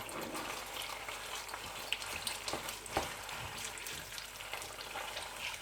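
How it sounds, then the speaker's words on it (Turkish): Tomato paste for kısır sizzles and fries in a pan, a steady close crackle with a few sharper pops and stirring scrapes, and no talk. "Salçamızı biraz kavuruyoruz arkadaşlar. O çiğ tadı gitsin diye."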